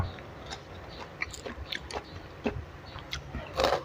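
Crunchy fresh raw vegetable being bitten and chewed close by, a steady run of crisp crunches and wet chewing with a louder bite near the end.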